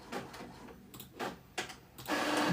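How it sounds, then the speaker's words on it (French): A home printer prints a page. It gives a few rhythmic mechanical clunks and whirs, then a louder continuous feeding rush at the end, heard up close. "Voilà, comme ça je vais imprimer cette page-là"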